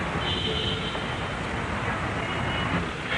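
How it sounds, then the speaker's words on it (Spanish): Dense, steady city traffic roar in Lima, a continuous wash of car and bus noise that holds evenly loud throughout with no single vehicle standing out. "sus gentes caminan y hay ruido de coches"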